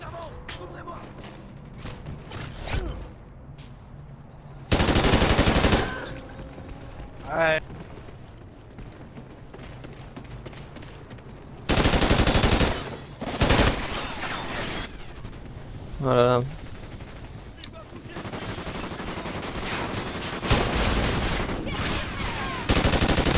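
Submachine gun fire in Call of Duty: Ghosts online multiplayer, heard as several loud, dense bursts spread across the stretch, separated by quieter in-game ambience and smaller shots.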